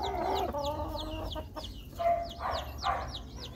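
Seven Rhode Island Red chicks peep in a steady run of high, falling chirps, close by, with lower clucking notes from a hen underneath.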